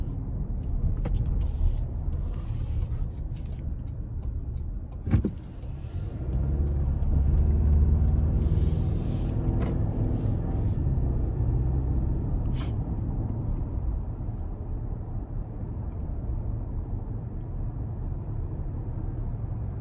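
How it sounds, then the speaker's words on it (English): The cabin of a 2024 Toyota Tacoma Limited with the 2.4 turbo four, driving along a road: a steady low rumble of road and engine noise, broken by a sharp thump from a bump and some softer knocks and rattles. "when it's smooth, but when there are bumps, I feel every single bump"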